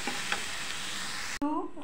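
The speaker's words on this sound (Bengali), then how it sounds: "শাক ভাজা কিন্তু হয়ে গেছে" Leafy greens fry in a pan with a steady close sizzle and a couple of stirring scrapes, then the sound cuts abruptly to a brief voice.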